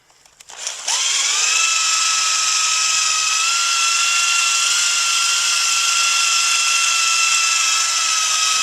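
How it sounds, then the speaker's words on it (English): A small 3/8 inch corded drill motor spins up from a stop and mixes liquid EPDM roof coating, settling into a loud, steady high whine that runs unbroken to the end. "the heavier drill motor you use, the better off you're going to be, but I'm using this little 3/8 inch"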